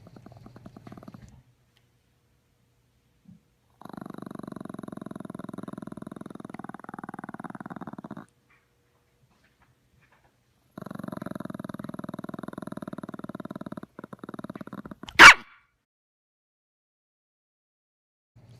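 A dog growls in two long, steady, rumbling stretches separated by silence, then gives a single sharp, loud bark or snap near the end.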